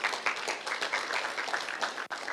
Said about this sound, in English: Let's clap for Helen.